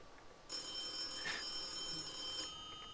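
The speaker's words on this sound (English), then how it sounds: "I hear your phone is a ringing." A telephone rings during a tabletop role-playing game session, a bright electronic bell-like trill starting abruptly and sustaining for a couple of seconds, moderately loud with no talk over it.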